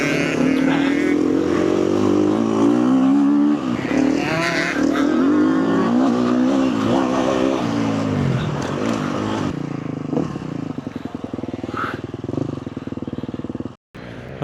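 A KTM motocross bike ridden in laps, its engine revving loud and close, rising and falling continuously before easing off near the end.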